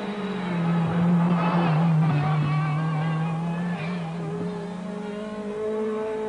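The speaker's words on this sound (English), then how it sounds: "Oh my God, there's that engine." A 1984 Lancia Delta S4 prototype rally car engine drones through a testing session, its sustained tone sliding lower and then rising again, with a few faint voices in the background.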